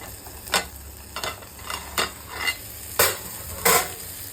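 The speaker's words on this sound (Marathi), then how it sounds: "चला तर आता बघूया याचं झाकण उघडून." Metal clatter from a pan of okra fry being uncovered and handled: several short, sharp scraping and clinking bursts spaced irregularly over a faint background hiss, close by and with no talking.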